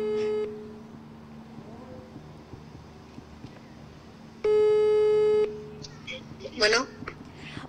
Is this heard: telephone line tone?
yes